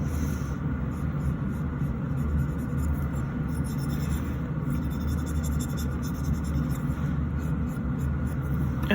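A gentle nail file rasps steadily across a peeling fingernail during a manicure, a soft continuous scratching that stays low and close with no talk over it.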